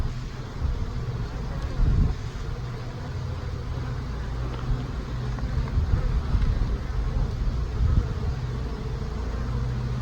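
Honeybees buzzing on and around a hive frame during a hive inspection, a steady dense low drone that swells slightly in places, with wind rumble and no speech.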